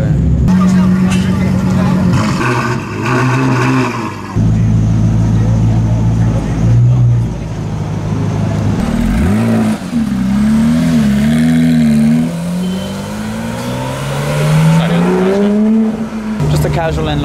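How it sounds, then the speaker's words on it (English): A Koenigsegg Agera supercar rolls past outside a restaurant, its loud engine rising and falling in pitch through changing revs as it moves by, with people talking throughout. "Casual Koenigsegg Agera just rolling through."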